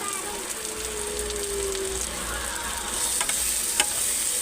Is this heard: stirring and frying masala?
yes